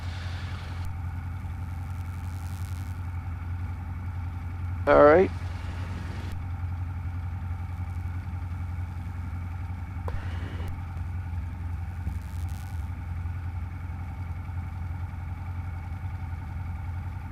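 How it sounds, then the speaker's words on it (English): A Cessna 172 engine idles on the ground while warming up before the run-up, a steady low droning hum throughout, with a brief voice and a faint cockpit noise over it. "let it warm up, even before we do our run-up, just to kind of get it warmed up before we go"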